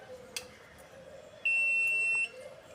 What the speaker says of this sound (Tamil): இது இப்போ பீப் சவுண்டு கேட்குது